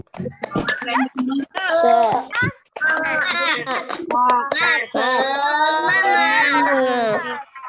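Elementary pupils of classes 3A and 3B doing the tepuk semangat clapping chant during an online class, several young voices chanting loudly in quick bursts with a few claps mixed in, over a compressed call connection.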